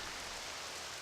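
Steady, even rain hiss in the video game The Legend of Zelda: Twilight Princess, a continuous broadband patter that stays at one level, quiet and with no voices over it.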